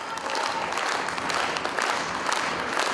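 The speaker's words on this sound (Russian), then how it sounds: "Артиста приветствуют под бурные овации." A full hall of spectators in a Crimean Tatar theatre gives a singer and actor a stormy ovation at his concert: dense, steady applause that fills the room for the whole stretch, with a faint murmur of voices underneath.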